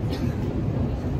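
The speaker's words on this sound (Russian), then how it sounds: "Сейчас мы в метро" Loud, rumbling low-frequency roar of a moving Moscow Metro train, steady and continuous, with a faint high whine above.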